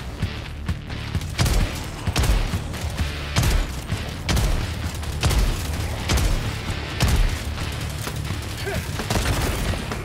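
Bursts of light machine gun fire in Helldivers 2, a series of loud, sharp volleys repeating at irregular intervals over a rumbling low battlefield background.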